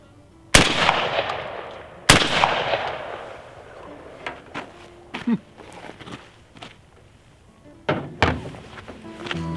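A shotgun firing reloaded Aguila shotshells: two loud, sharp close-range blasts, each trailing off quickly, followed by softer clunks and handling knocks, then a third heavier thump near the end.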